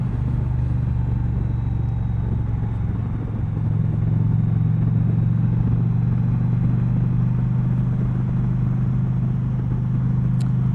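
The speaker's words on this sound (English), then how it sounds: "You can hear the whine in the engine." An Indian Challenger motorcycle cruising in fourth gear on an unfamiliar road gives a steady, loud engine drone with a low rumble and a faint whine running unbroken throughout, with no talk.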